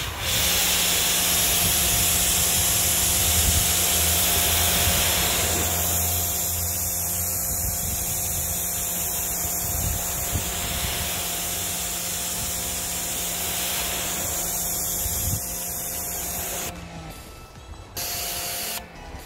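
Water sprays steadily onto a car panel coated with ceramic-type protection, a continuous close hiss of spray and runoff with a faint hum beneath, easing briefly near the end.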